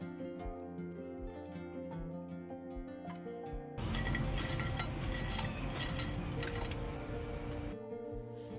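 Crispy masala okra (bhindi) fry being stirred in a pan, a dry, crunchy scraping rustle that starts midway and lasts about four seconds over steady background music, then gives way to the music alone.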